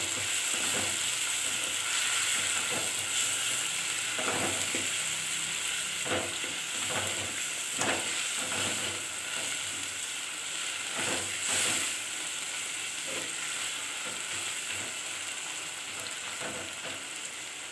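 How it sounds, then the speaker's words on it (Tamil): Onion and tomato sauté in a pan for a prawn soup and fry dish. Sizzling fills the whole stretch, broken by repeated scraping and clacking strokes of a spatula, close up, with no talking. "வெங்காயம் தக்காளிலாம் வதங்கிடுச்சு"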